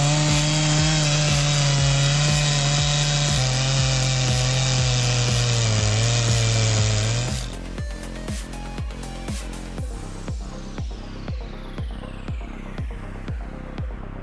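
A Stihl 880 chainsaw cuts through wood during tree felling, first a loud, steady high-pitched whine, then the engine drops away into a fast, regular run of rhythmic knocks.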